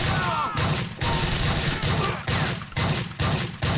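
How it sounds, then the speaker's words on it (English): Automatic shotgun gunfire in the video game Grand Theft Auto IV: about eight loud, booming blasts in rapid succession, each with a sharp attack and brief decay, filling the clip with no talk over it. "Oh my god, this is an automatic shotgun."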